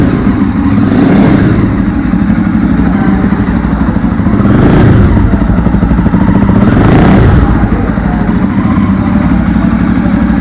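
A Jawa Perak motorcycle engine idles loudly up close with a steady, throbbing exhaust note, broken by three short throttle blips that rise and fall in pitch.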